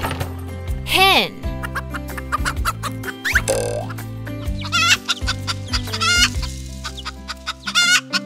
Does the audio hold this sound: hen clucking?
yes